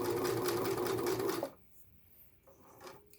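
A Singer 6211C sewing machine stitches a zigzag satin stitch, a fast, close rattling whir for about a second and a half before stopping abruptly, followed by faint handling noises.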